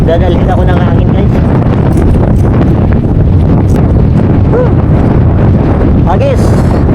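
Strong wind buffets the microphone in a constant loud roar, with a voice faintly audible underneath.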